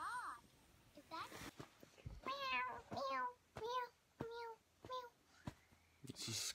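A series of drawn-out meows repeats close by, about six or seven in a row with short gaps between them.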